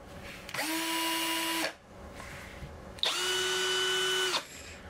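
A Milwaukee M12 cordless right angle drill, model 2415-20, whirs in two bursts of about a second each, a steady high-pitched motor whine with a short pause between runs.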